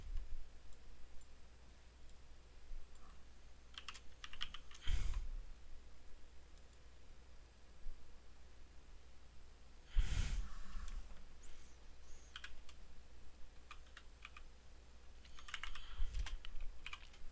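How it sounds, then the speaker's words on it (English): Fingers type steadily on a computer keyboard with a quick patter of soft clicks, broken by two louder clattering bursts, close and fairly quiet with no one speaking. "me typing."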